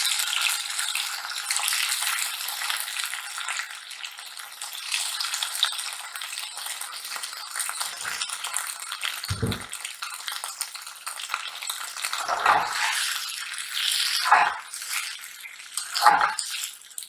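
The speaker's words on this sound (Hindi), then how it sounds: "और उसमें बैगन को भी फ्राई कर लेंगे।" Brinjal (eggplant) frying in a little oil in a pan over medium-low flame, a steady close hiss and sizzle with a few soft thumps of stirring toward the end.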